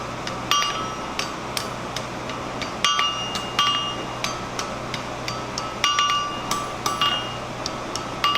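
Hot steel is hammered over an anvil while a scroll is formed in a blacksmithing class. Sharp, ringing metallic blows land in a steady rhythm about twice a second, close and fairly loud.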